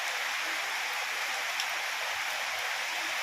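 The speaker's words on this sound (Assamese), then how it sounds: "বহুত জোৰত আহি আছে, একদম বগা বগা হৈ আছে বৰষুণ" Very heavy rain pours down in a dense, loud, unbroken roar of drops, steady and close with no pauses.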